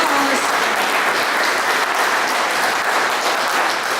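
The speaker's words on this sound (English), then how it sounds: "I think they deserve a round of applause, as well as Margaret MacDonald" An audience at a Yes East Kilbride public meeting applauds the SNP, a dense, steady wash of clapping that holds loud and even throughout.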